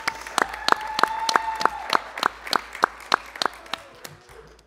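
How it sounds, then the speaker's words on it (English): Scattered, sparse clapping at a school board of directors meeting honoring scholar athletes, a dozen or so sharp distinct claps in a loose, uneven rhythm. "So give them a round of applause."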